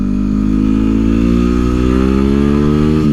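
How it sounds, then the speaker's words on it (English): Close, loud engine drone of a Yamaha WR250R motorcycle ridden on the highway, its pitch climbing steadily as it accelerates and holding a constant roar throughout. "riding this WR250R on the highway, it's no issue for me"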